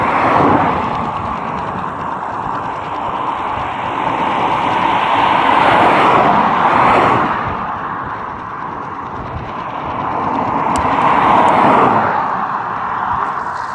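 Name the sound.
traffic passing on a dual carriageway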